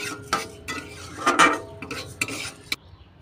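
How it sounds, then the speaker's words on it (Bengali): Dry lentils being stirred and fried in a pan, close, irregular scraping and clinking of a spatula against the metal, coming in short bursts with quiet gaps between. "লাল লাল করে ভেজে নেব ডালটা।"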